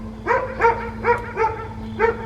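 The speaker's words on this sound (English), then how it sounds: "That dog is a literal demon. I've sat here for 10 minutes. It has not shut up." A dog barks repeatedly in steady, evenly spaced yaps, five clear barks over a constant low electrical hum, heard outside near a closed-down vacant college.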